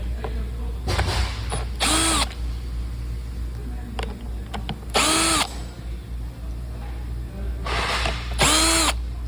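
A power drill backs screws out of the dash of a sixth-generation Toyota Camry. Three short, loud whirring bursts are spaced a few seconds apart, each rising and falling in pitch, over a steady background hum.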